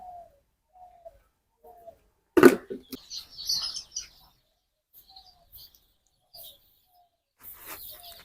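Scattered high chirps and peeps from three-day-old native chicks come in short bursts with quiet gaps, plus one sharp knock partway through.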